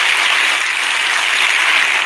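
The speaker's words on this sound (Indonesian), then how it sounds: "Boleh tepuk tangan untuk periode kedua." Dense, steady audience applause fills the whole stretch at a loud, even level, honouring a second term in office at a televised Indonesian talk-show interview with Dedi Mulyadi.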